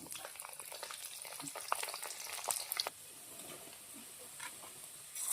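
Green chilies and garlic, along with cumin, ajwain and dried red chilies, sizzle and crackle in two spoons of hot oil, with a steady frying hiss and a brief stir before it settles.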